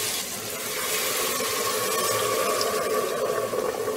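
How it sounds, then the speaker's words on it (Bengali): Hot water streams steadily into a pot of Bengali mutton curry with potatoes, a continuous close, moderately loud pouring rush lasting several seconds without talk. "এবার দিচ্ছি আমি রেখে দেওয়া গরম জল"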